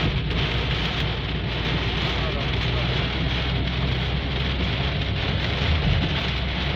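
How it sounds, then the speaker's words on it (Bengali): A storm in Jeddah brings heavy rain, heard as a loud, unbroken roar of drops hammering nearby surfaces, steady throughout with a deep rumbling undertone and no pauses. "যে বৃষ্টি হয়ে যাচ্ছে, রাস্তাঘাট দেখা যাচ্ছে"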